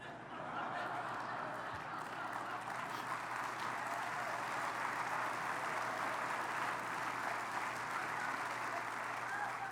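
A crowd applauds steadily, a dense wash of clapping that holds at an even level for several seconds.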